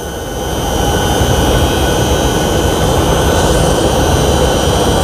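Electric motor on a variable frequency drive spinning up toward its rated 50 Hz, a steady broadband whir with faint high tonal whines that swells over the first second and then holds loud and even, with no voices.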